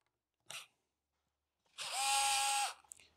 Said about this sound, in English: Now if you want to take out the air tank, so we must unscrew these four screws.